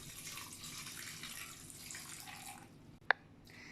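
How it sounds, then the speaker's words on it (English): Cold tap water pours steadily over drained spaghetti noodles sitting in a strainer, a continuous soft hiss and splash that stops near the end, followed by one sharp click. "So let's pour some cold water on the spaghetti noodles so that it is non-sticky."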